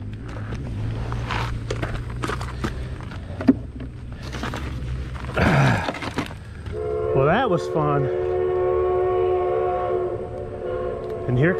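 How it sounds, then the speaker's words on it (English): A train rumbles close by, then its horn sounds with a wavering, sliding tone that holds steady for several seconds; a brief voice speaks early on. "And here comes the train."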